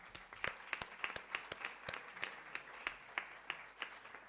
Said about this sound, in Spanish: hay que darles un aplauso como toca a todos ustedes